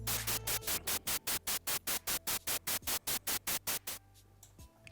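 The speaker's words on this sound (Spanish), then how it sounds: "fíjense que es solamente ruido blanco que se va entrecortando cada 100 milisegundos" White noise switches on and off every 100 milliseconds, a rapid, regular train of loud, equal bursts separated by short gaps. It stops abruptly near the end, leaving a faint low hum.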